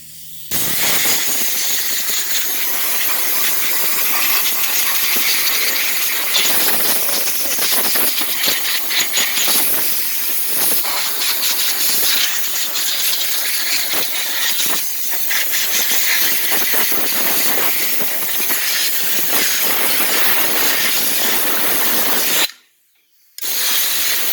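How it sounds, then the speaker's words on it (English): Compressed air blasts continuously through the engine compartment of an Lexmoto LS MT125 motorcycle during servicing, a loud, steady hiss lasting over twenty seconds before a brief pause and restart. "I'm going to go ahead and blow the engine compartment out."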